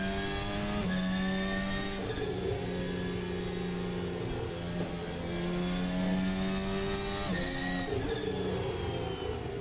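An F1 car engine in the Assetto Corsa racing game revs hard and shifts through gears, a loud, continuous high-pitched whine rising and falling with a few quick throttle changes.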